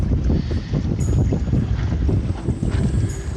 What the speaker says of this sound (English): we got a good wind blowing, and it's kind of gusty